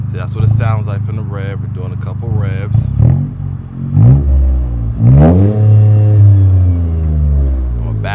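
Loud revs from a Toyota GR Corolla with a 2J Racing exhaust: several quick throttle blips climb and fall, then one longer rev sweeps up and drops back, close to the microphone.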